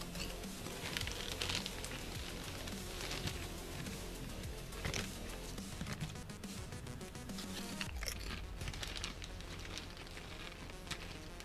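Loud, close crunching and biting of a snack with steady chewing throughout, alone without talk, in a workshop setting while detailing a HMMWV engine bay.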